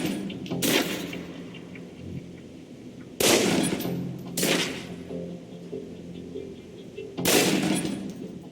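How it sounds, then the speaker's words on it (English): Four pistol shots fired at a target in the Alpha Protocol video game shooting range, each a sharp loud crack with a short decaying tail, spaced a couple of seconds apart over a low background hum. "Equip the pistol, then aim down range and take some shots at the target."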